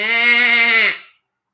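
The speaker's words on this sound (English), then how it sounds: "the goat" A goat lets out a single loud, close bleat, a sustained wavering cry lasting about a second before cutting off into silence.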